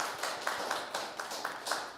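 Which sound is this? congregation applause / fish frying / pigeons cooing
congregation applause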